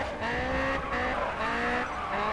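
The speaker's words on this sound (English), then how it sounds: "I'm gonna try to go around him and drift around him." A modded Honda S2000 drifts on a circuit in the racing game GRID AutoSport, with continuous high engine revving and sustained tire squeal rising and falling across a couple of seconds, loud and close, with no talking.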